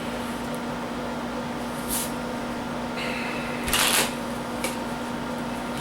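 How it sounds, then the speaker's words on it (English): Playing cards being shuffled at a card game: a few short riffling bursts near and moderately loud over a steady low electrical hum, with no talking. "when I shuffle, which usually drives people I play with freaking crazy"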